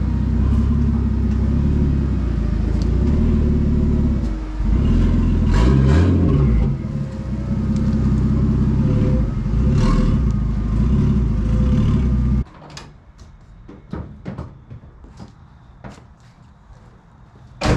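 Engine of a straightened Nissan 240SX droning loud and steady on a test drive, rising briefly mid-run, then cutting off to quiet cabin clicks and knocks.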